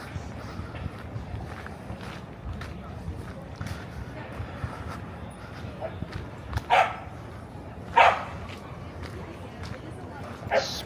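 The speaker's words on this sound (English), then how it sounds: "Smaller dogs go in this area." Dogs bark a few times at a Manhattan dog run on a summer day, short sharp barks rising over steady outdoor city noise and movement.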